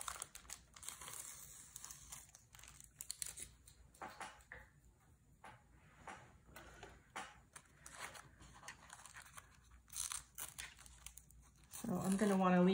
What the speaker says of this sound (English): And let's take some of the tape off.